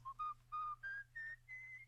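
Six short whistled notes stepping upward in pitch, clear and thin over a faint low hum, fairly quiet.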